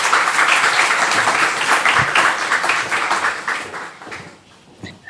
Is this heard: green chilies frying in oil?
no